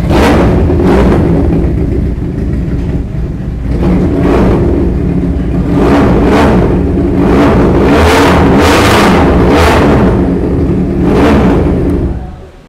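A Ducati GT 400cc motorcycle fitted with an SC Project muffler revs hard in repeated loud blips, about eight throttle bursts rising from a throaty idle, alone and close.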